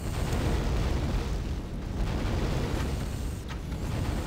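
A deep, sustained rumbling explosion from a direct hit on ships in a space strategy game, loud and continuous with a broad low roar and no talk.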